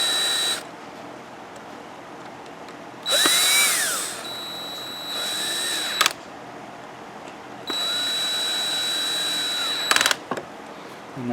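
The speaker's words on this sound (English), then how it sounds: "And I'm on the number 3 setting with the drill." A power drill on its low number 3 speed setting, used while reinstalling screws on an Echo SRM-231 string trimmer during a carburetor replacement, whirs in three short bursts, each spinning up and winding down, with quiet pauses between.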